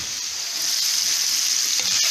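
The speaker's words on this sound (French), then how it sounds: "ensuite, je reviens dans mes lardons" Bacon lardons fry in a pan with a bright, continuous sizzle and crackle, close and steady from start to finish with no talking.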